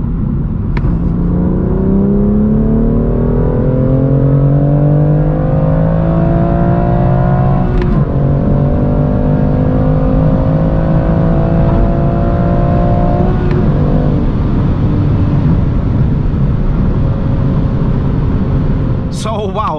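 A sports car accelerates hard from 100 to 200 km/h, its engine note climbing steadily through several gear changes with brief dips between shifts, loud and close with a constant rumble underneath.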